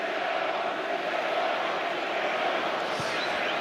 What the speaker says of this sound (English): Crowd are chanting for VAR.